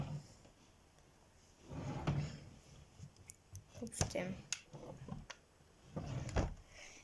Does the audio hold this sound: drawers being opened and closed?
yes